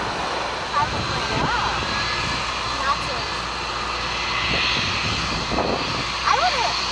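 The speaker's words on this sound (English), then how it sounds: "That plane is landing, and then just over here, second in line to take off, that's Trump's plane." A fixed-wing airplane comes in to land at Washington's DCA airport, its engine a steady, moderately distant roar under outdoor ambience, with talking voices cutting in at intervals.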